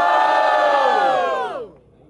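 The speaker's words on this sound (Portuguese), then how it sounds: "Barulho quem gostou das rimas de TCA!" A loud crowd at a regional qualifying round of the Batalha da Leste rap battle roars and cheers in one sustained shout. The voices rise together, then drop off sharply after about a second and a half.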